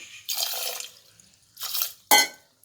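Water is poured into a cooking pot of green gram in three short splashing bursts, the last one sharper, with brief quiet gaps between them.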